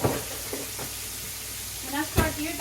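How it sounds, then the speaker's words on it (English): Hot grease crackles and sizzles steadily as fish fries in a pan, a soft continuous hiss with occasional brief pops and a voice briefly breaking in near the end. "You can hear that grease."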